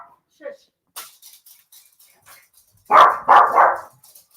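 A dog in a home gives a quick burst of three sharp barks close by near the end, after scattered small noises and quiet stretches.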